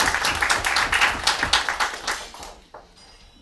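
Audience applause at a community meeting, a burst of many hands clapping fairly close that thins and fades away over the last second.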